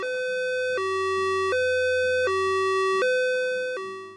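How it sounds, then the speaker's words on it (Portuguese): An ambulance siren sounds continuously in a two-tone hi-lo pattern, switching pitch about every 0.75 seconds. It is loud and close with no voices, and the tone stays steady, showing no gradual drop in pitch. "Se a ambulância está vindo na nossa direção, a gente escuta um som muito mais agudo"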